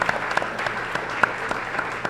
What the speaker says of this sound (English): I know all four of these gentlemen appreciate your applause again